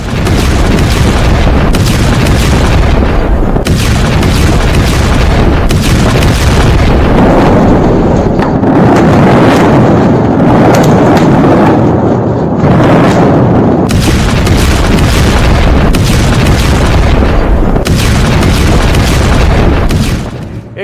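Continuous heavy booming and deep rumbling explosions from an attack on Tehran, loud and sustained, with bursts and crackling blasts rolling one into another and no clear pause.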